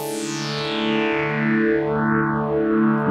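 A synth tone from the u-he Bazille modular synthesizer is swept by a phaser, giving a loud, bright, buzzy sustained sound with notches sliding up and down for a swirling, moving character.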